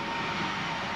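A steady, broadband roar of an A-10 Warthog attack jet in flight during a Gulf War air assault fills the whole second, loud and unbroken with no voices.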